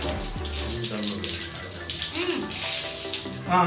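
Water gushes out of the drain hose of a budget washing machine after a wash cycle, a steady close rush pouring down with no break, with a faint voice now and then.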